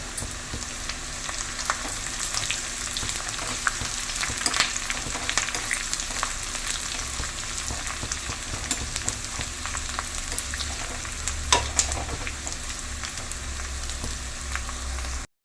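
Onions and curry leaves fry in a pan for a Kerala-style curry, a steady dense sizzle and crackle throughout with occasional stirring scrapes, close and fairly loud, no voices.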